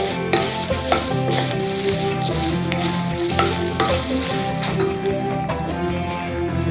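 Red chillies frying in a pan on a stove, crackling and sizzling steadily while a spoon stirs and scrapes them at a regular pace, with faint background music underneath.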